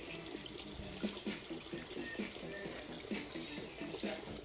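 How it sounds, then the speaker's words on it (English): Tap water runs steadily into a kitchen sink during handwashing at home, a continuous close hiss with slight splashing changes and no talking. "All right, wash my hands."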